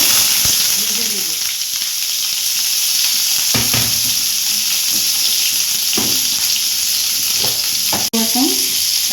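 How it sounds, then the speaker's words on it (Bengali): Jackfruit pieces fry in hot oil for a Bengali-style curry, giving a continuous loud sizzle with intermittent stirring clatters and one sharp knock near the end. "এবার কাঁঠালটা দিয়ে দেবো, ভেজে দেবো।"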